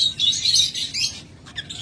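Pet birds in a breeder's stock offered for sale chirp in quick, bright bursts, dense and close for most of the moment, thinning toward the end with a few last sharp calls.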